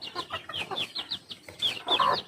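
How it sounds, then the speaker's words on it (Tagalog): Chickens cluck in quick, repeated bursts while being fed, several birds close together, with a few sharper, higher calls near the end. "Mga manok talaga."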